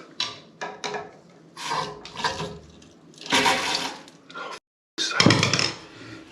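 Water runs into a newly fitted back-to-wall toilet pan in a renovated bathroom, heard as a rushing, splashing flow with knocks and clatter. It breaks off briefly, then surges again close by.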